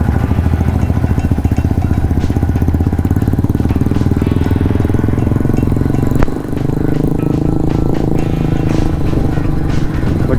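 A cruiser motorcycle rides over a rough, broken road on a ride to Sakaleshpura, its engine a loud, steady close drone with constant rumble and a brief dip partway through, no talk heard.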